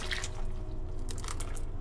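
Rinse water from a mixie jar is poured into a butter chicken gravy in a home kitchen, giving a short, faint trickle and splash with a few drips over a low background hum.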